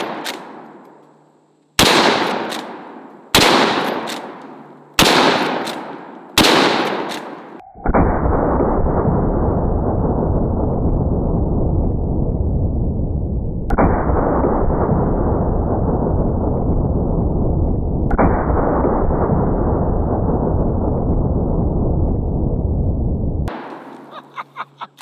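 A lever-action gun fires at 2-liter bottles: five loud, sharp shots in quick succession, each ringing off, followed by a long sustained roaring blast that swells in three surges before cutting off into a few faint pops.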